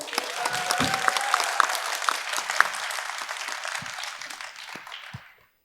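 Applause ripples through the audience at a city policy forum on new-town redevelopment after a council member's speech, a steady patter of many hands that tapers and fades out.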